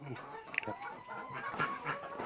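Several chickens cluck and murmur close by in a continuous, busy flock chatter while feeding, with occasional sharper squawks.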